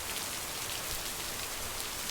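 Steady rain falls throughout, a dense, even hiss of drops striking surfaces that stays constant in level from start to finish, with no voices.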